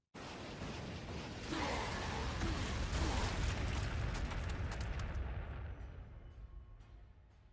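Artillery fire from the video game Warhammer 40000 Sanctus Reach: a sustained, rumbling barrage of booming blasts that swells after a sudden start, holds steady, then gradually fades, with no voices.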